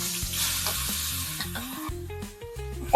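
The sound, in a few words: koi fish frying in oil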